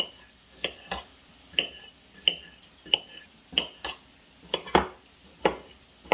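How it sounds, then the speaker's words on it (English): A knife slices potatoes in half on a cutting board, giving sharp, evenly spaced chops about once every three-quarters of a second, close and crisp in an otherwise quiet kitchen. "Just gonna cut some potatoes in half"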